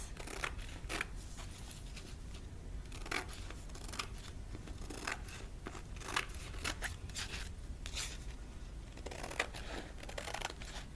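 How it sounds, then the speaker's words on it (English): Scissors snipping through canvas in a steady, close series of crisp cuts with a faint crunch, continuing alone for several seconds. "I am going to cut my canvas."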